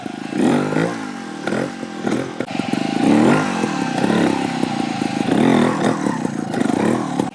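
Trials motorcycle revving hard through a wheelie, a close, loud engine rising and falling in repeated throttle bursts with mechanical clatter.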